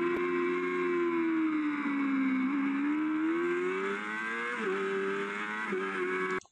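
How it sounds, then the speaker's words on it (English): A motorcycle engine on the Dubai Autodrome racetrack revs high and steady, then upshifts from first to third gear, the tone dipping and climbing again at each change before it cuts off abruptly. "So two gears up, I went from first to third."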